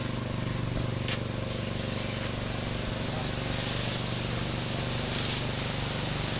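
A steady, loud hissing spray of liquid fertilizer being applied around the base of an oil palm, running continuously under a low engine or pump drone.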